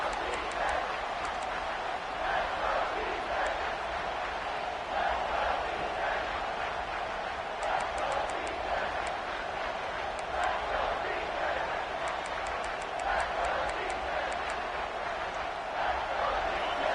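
A loud stadium crowd at a Texas football game roars steadily throughout, a dense sustained wall of voices with sharp whistles and shouts poking through.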